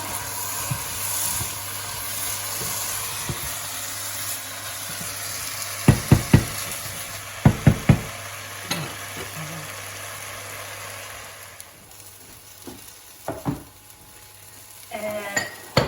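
Fava beans in olive oil stirred in a pan over steady sizzling, with a few sharp clusters of utensil scrapes and knocks in the middle and later, and a constant background hum.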